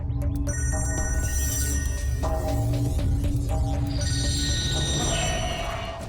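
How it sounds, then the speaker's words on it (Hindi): A telephone rings with an incoming call from a private number, its repeated electronic ringtone tones sounding loud and close over a busy background, with no speech. "हाँ दया, मुझे मालूम है तुमने फोन किया है"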